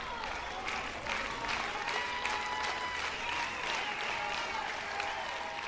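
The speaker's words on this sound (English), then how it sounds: "LSU's crowd comes alive with rhythmic clapping, encouraging the Tigers defensively." LSU softball crowd at a home game against Georgia clapping together in a steady rhythm, a dense wash of many hands with repeated pulses, loud and continuous throughout with faint crowd noise.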